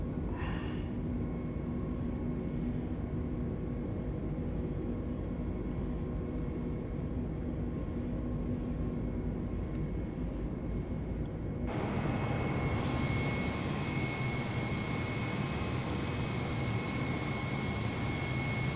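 Airliner takeoff roll and climb-out from Denver runway 26 in Microsoft Flight Simulator 2020, a steady loud engine roar with broadband rush that suddenly swells brighter and louder partway through, continuous, with no talking.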